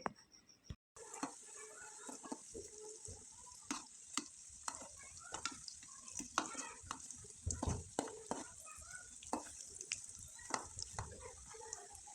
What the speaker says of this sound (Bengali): নাস্তাগুলো একবারে মুসমুসে করে ভেজে নিলাম